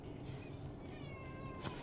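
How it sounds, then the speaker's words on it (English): A house cat lets out a faint, drawn-out meow with a wavering pitch, quiet and set against low background noise with no talk. "Both of our cats are going insane tonight"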